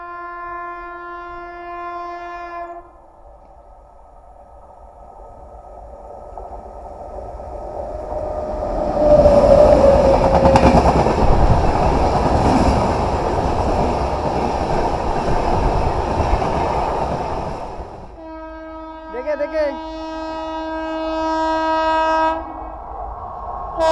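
The SMVT Bengaluru weekly express passes Radhamohanpur station: long horn blasts open the sound, then a loud, rising roar of the train rushing by for about fifteen seconds, followed by more sustained horn tones as it recedes.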